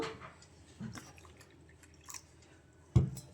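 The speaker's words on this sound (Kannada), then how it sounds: "ಇವಾಗ ವಾಟರ್ ಹಾಕ್ಕೊಂಡು ಮಿಕ್ಸ್ ಮಾಡ್ಕೊಳ್ಳೋಣ" Rava dosa batter with tomato is stirred with water in a bowl, giving soft wet squelches and drips, fairly quiet, with one louder splash near the end.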